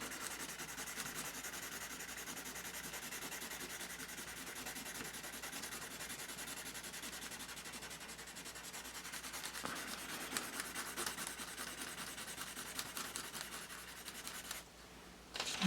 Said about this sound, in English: on the back side of the tracing paper, scribble over all of the areas that my drawing is covering.